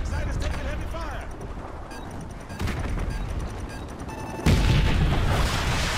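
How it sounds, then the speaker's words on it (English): Heavy gunfire and booming explosions in Call of Duty: Modern Warfare 2 combat, dense overlapping shots, rumbling blasts and a sudden loud burst near the end, with voices shouting over the din. "The evac site is taking heavy fire!"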